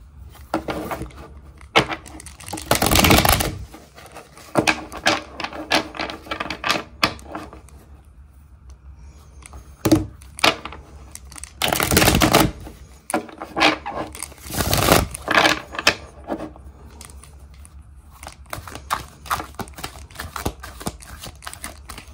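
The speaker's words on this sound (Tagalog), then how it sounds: "Balasahin muna po natin yung baraha." A deck of playing cards being shuffled by hand, heard as several loud riffling bursts separated by quieter handling and rustling, close and with no talk.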